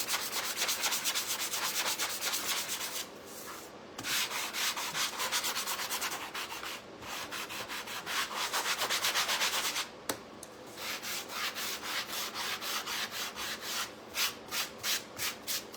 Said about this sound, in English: Let's go ahead and sand the back and sides of our hut.